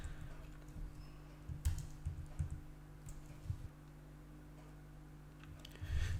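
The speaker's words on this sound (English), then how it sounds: "So we'll type" Quiet computer keyboard typing while entering HTML code: soft irregular key clicks in short bursts over a low steady hum, no talking.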